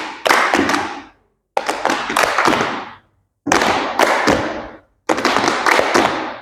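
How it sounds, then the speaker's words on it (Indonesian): Students in a group counseling session at a vocational high school clap together in four distinct rhythmic bursts separated by brief pauses, close and loud, with no talking. "yuk kita mulai tepuk bituan"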